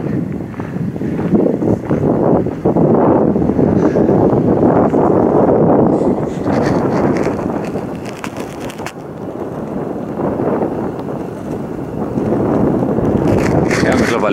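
Steady broadband wind rushes across the Hennesee reservoir lakeside in the Sauerland, loud and continuous with gusty swells, with no talk over it.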